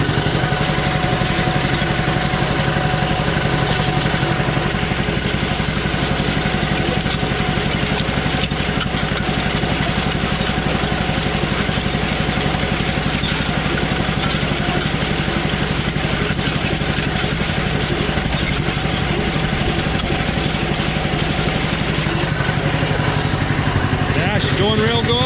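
A John Deere B tractor engine runs steadily under load for the whole stretch, with a constant low chugging drone that is close and loud, and a voice speaks over it at times.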